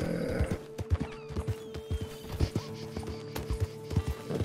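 Hooves of a scrawny nag horse clip-clop in a steady, close rhythm in Red Dead Online, with a brief whinny near the start and faint game sounds underneath.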